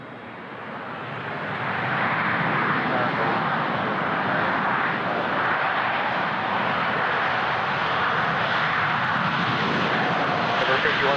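Air Canada heavy jet departing runway 15 left at Toronto, a steady loud broadband engine roar that swells over the first two seconds and then holds level, with radio chatter in the background.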